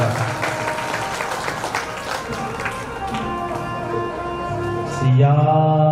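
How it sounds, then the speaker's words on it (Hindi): Loud applause at a Ram Katha gathering at an ashram, a thick crowd clapping for several seconds before musical tones and a voice rise at the end. "जरा एक बार जोरदार ताली बजा दीजिए"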